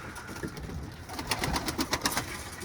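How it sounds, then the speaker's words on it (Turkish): Pigeons cooing and calling up close as birds are let out of a coop, a cluster of repeated soft calls and fluttering over a steady background, no talking. "O yüzden kuşları bir açayım şöyle."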